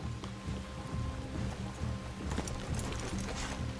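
Horses clip-clopping in the video game Red Dead Redemption 2, a steady run of hoof beats near a river with a faint whinny, quiet and continuous under a background wash.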